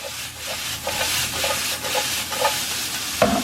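Garlic and cracked pepper are stirred in a pan with elk tenderloin, giving rhythmic scraping strokes about every half second over a soft continuous sizzle, close and clear with no talking.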